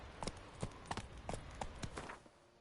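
Roach the horse's hooves clip-clop in The Witcher 3, a brisk run of about ten distinct hoof strikes in an even rhythm, fairly soft, fading slightly toward the end.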